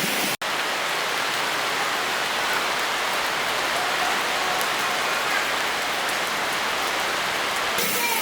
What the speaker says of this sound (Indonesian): Dan ini hujannya lebat-lebat mah,